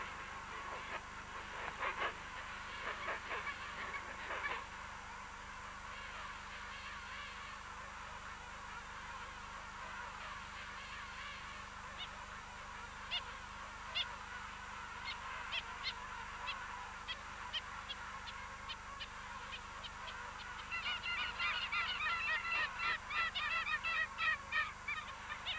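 A colony of king penguins calls in many overlapping, honking, trumpet-like voices, steady and dense throughout and growing louder and busier near the end, with no talk.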